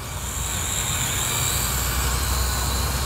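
A WLtoys Q222K camera quadcopter drone hovers and banks nearby, giving a steady, dense whirring buzz of spinning propellers that holds an even level throughout, with no voices.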